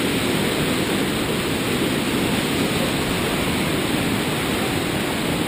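Rain-swollen lake water rushes over a floodgate in a steady, broadband roar that stays loud and unbroken from start to finish.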